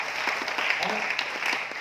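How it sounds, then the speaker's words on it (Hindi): An audience at a sales meeting claps briefly, a dense patter of many hands, moderately loud, with a voice speaking over it. "ताली बजाएं"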